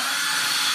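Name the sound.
drill boring holes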